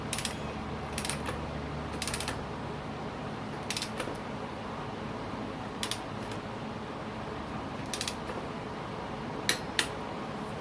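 A torque wrench clicks and ratchets while snugging the cylinder head bolts on a 2019-2022 Yamaha YZ450F during a top end rebuild, with sharp metallic clicks spaced a second or two apart over a quiet workshop hum.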